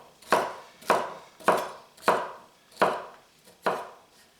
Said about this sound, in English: I'm going to finish cutting up the celery